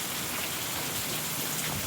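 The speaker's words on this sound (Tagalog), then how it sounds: "Grabe, lakas ng ulan." Heavy rain pouring down in a steady, dense hiss, loud and close, with no voices over it.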